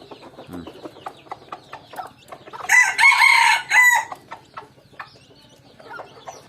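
A rooster crows loudly in a burst of several calls among farm chickens, with soft, scattered clucking before and after; some of the birds are sick and cold.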